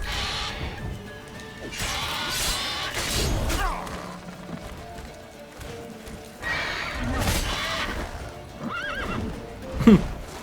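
A horse in The Witcher 3: Wild Hunt whinnies loudly over clip-clopping hooves and clattering game sounds, with a sharp neigh rising near the end.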